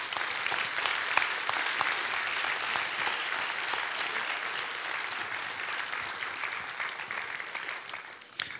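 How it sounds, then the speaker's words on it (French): An audience at a municipal New Year's ceremony in Florange claps warmly in sustained, crackling applause. It stays fairly even throughout and tapers slightly at the very end. "des tonnerres d'applaudissements pour la reconnaissance des Florangeois"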